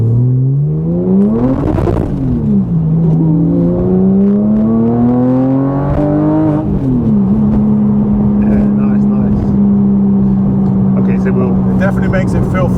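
A track-focused Porsche 997 Carrera RestoMod engine revs up and down in rising and falling sweeps, settling into a steady loud drone, with people talking over it inside the car.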